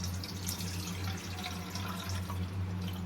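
Liquid from churned homemade butter trickles and drips steadily as it is strained off the solids in a kitchen, a continuous close splashing over a low steady hum, without speech.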